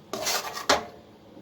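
Two quick scraping clinks of a spoon against a bowl as green chilli halwa is served, close and fairly soft, with quiet between them.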